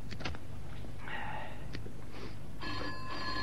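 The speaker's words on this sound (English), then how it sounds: "11 years and I still jump when that phone rings." A telephone rings in a radio drama, several short bursts of ringing at moderate level in a quiet room, with faint rustling and movement between rings.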